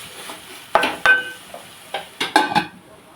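Chicken curry stirred in a pan, heard as a handful of separate scraping strokes with light metallic clinks, spaced irregularly against quiet kitchen background.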